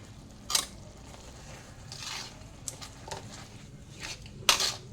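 Soft, faint stirring in a pan as powdered milk is mixed in, with quiet squishing and patter broken by a few sharp scrapes of a spoon against the metal.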